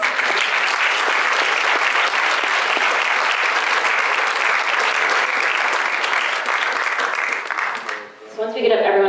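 Steady, loud applause from an audience at a garden contest awards ceremony carries on for about eight seconds before dipping and fading out.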